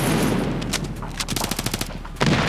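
Rapid bursts of A1S rifle fire in the mobile shooter game Standoff 2, loud and close, with repeated sharp shots clustered through the middle and a heavier blast near the end.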